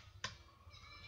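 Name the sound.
RAM module clicking into ThinkPad X230 laptop slot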